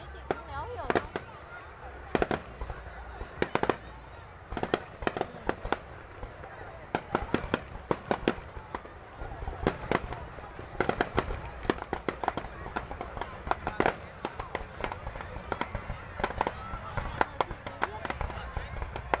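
Fireworks burst over Son La city on May 7, with many sharp cracks and pops arriving in irregular clusters, at moderate distance and fairly steady throughout.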